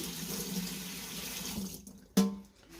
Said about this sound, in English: wash my hands at the same time